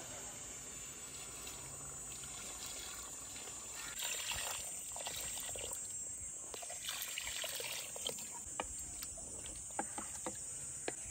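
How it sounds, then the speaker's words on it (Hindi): Water trickles and splashes into a cooking pot holding beef trotters, a quiet, uneven pour with small clinks and drips toward the end. "पायों के साथ शामिल कर लेंगे पतीले में पानी।"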